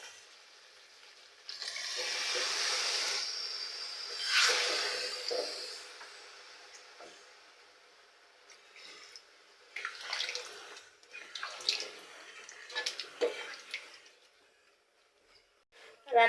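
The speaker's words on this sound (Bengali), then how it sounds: "এবার আমি পরিমাণ মতো ঝোলের পানি দিয়ে দেব।" Water splashes into a pot of Kushtia-style beef roast in a couple of brief pours, followed by quieter clatter and faint background voices.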